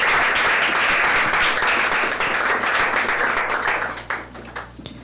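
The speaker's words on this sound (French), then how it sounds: "Moi, je vais applaudir" A crowd at a reading contest applauds loudly in a dense, sustained wash of clapping that thins into scattered individual claps toward the end.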